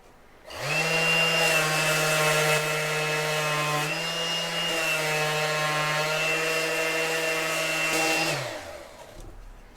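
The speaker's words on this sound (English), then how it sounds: "We're going to start with this random orbit sander. It has 80 grit sandpaper on it" A random orbit sander fitted with 80-grit paper runs on SmartCore vinyl flooring as a loud, steady motor whine with a constant pitch. It starts abruptly, holds for about seven seconds with a slight shift midway, then winds down.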